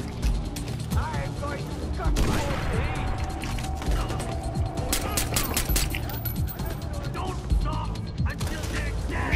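Machine gun fire and battle noise in the video game Far Cry 4, bursts of rapid clattering shots amid mechanical clanks and impacts, moderately loud, with voices over the action.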